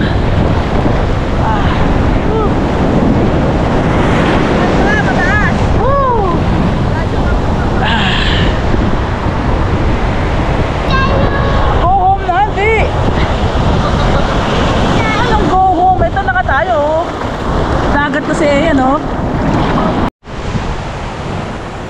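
Strong sea surf at Patar Beach in Bolinao, Pangasinan, roars continuously and loudly, mixed with heavy wind buffeting the microphone while people talk and shout over it.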